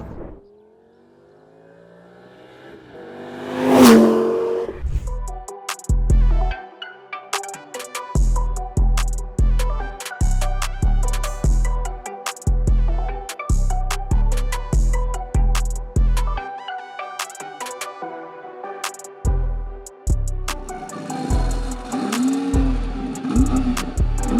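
A 2007–2008 Lamborghini Gallardo Superleggera, a first-generation model, opens with one loud roaring rev. A long run of sharp, rhythmic throttle blips follows, then a fluttering, rumbling idle, all loud and close with no talking.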